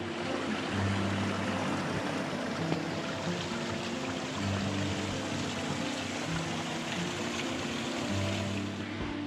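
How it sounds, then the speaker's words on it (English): Waterfall on Deep Creek in South Australia's Fleurieu Peninsula, a steady broadband rush of falling water heard close and constant throughout, with no voices. "Could hear the waterfall,"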